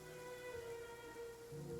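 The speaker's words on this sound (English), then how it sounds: "It's been raining non-stop for a few days now." Steady rain falls in the video game Genshin Impact, a continuous soft patter on surfaces that stays even and unbroken throughout, with faint tonal background music running beneath it.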